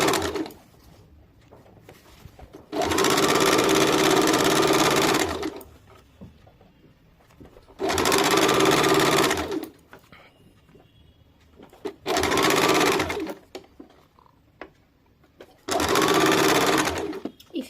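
A sewing machine runs four separate bursts of stitching, putting a double seam half an inch in on a semi-salwar, each run steady and close with quiet pauses between.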